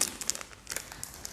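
A small perfume sample sachet is torn open, giving a brief, faint crinkle of thin packaging with a few sharp crackles, close by and quiet.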